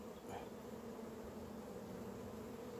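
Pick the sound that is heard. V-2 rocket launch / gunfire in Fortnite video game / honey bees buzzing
honey bees buzzing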